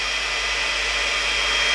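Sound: GHD Duet Style hot-air hair straightener running

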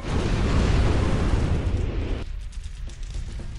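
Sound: fire erupting from below in the Psychonauts video game

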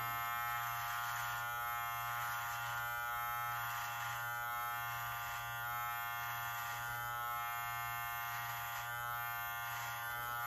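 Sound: Live Bearded MT-1 electric beard trimmer buzzing

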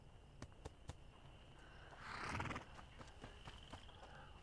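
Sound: horse neighing in video game A Plague Tale: Innocence

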